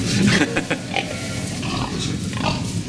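Pigs grunt on a farm holding around 150 animals, with a scattering of low, irregular grunts and snorts amid a steady noisy barnyard background.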